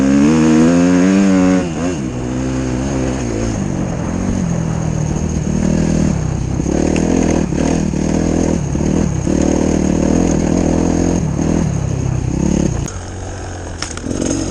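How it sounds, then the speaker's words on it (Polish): A Suzuki RMZ 250 fuel-injected dirt bike engine revs and drops repeatedly, loud and close, with throttle blips and gear changes throughout, ridden in winter enduro. "na czym jadę jest to motocykl Suzuki RMZ 250 na wtrysku"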